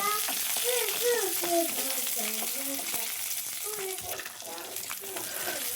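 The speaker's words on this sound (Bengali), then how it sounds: "তারপরে দেবো কালো জিরে, তারপরে দেব গোটা রসুন আর কাঁচা লঙ্কা দিয়ে এটাকে একটু ভেজে নেব" Nigella seeds, whole garlic cloves and green chilies frying in oil in a home kitchen pan, giving a steady close sizzle with occasional stirring, while a voice talks over it throughout.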